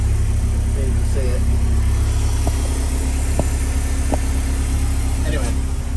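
Ford Sierra Cosworth 2wd engine idling through its standard exhaust, a steady low rumble held throughout, with faint brief voices and a few clicks over the top.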